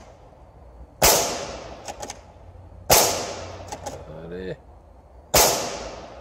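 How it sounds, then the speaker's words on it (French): Three sharp airsoft replica shots at 2 joules, each a crisp snap with a short decaying tail, spaced a couple of seconds apart, with faint clicks between and a brief voice speaking. "Vas-y, je te laisse faire 5 tirs."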